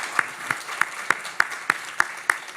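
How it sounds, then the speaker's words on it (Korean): A church congregation claps together during a Sunday service, a steady unison beat of sharp hand claps about three per second, moderately loud with a little room echo and no talk. "우리 수고하신 분들 박수 한번 좀 부탁드립니다"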